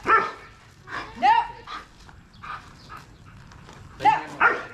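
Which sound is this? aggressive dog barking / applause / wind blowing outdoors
aggressive dog barking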